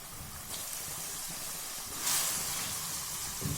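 Minced meat (keema) frying in a karahi over a medium flame, a soft, continuous sizzle and hiss with a brief louder surge midway, fairly quiet and heard on its own.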